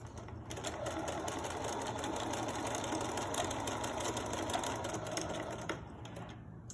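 A sewing machine stitches along the side of a pleated cloth face mask, running in a steady, continuous rapid whir of needle strokes at close range before slowing and stopping near the end.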